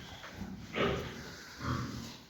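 Pigs in a pen snort and grunt in a couple of short, close bursts over steady background noise as they are moved between rooms.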